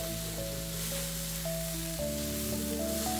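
Finely chopped cauliflower, potato, pointed gourd and a little onion frying in a pan, producing a constant close sizzle under a faint steady hum.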